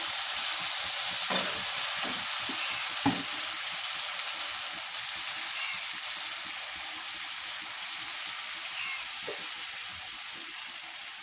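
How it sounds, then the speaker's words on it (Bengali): A beef curry sizzles steadily in a pan, a loud, dense hiss that eases slightly toward the end, with a few light utensil taps and no clear pouring splash. "এই তো এখন আমি ঝোল দিয়ে দেবো"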